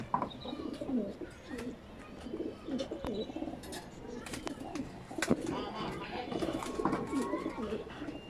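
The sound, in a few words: pigeon cooing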